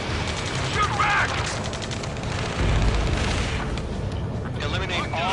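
Shooter video game combat with a fast fusillade of gunfire and booming blasts running throughout, close and dense, under shouted voices giving orders.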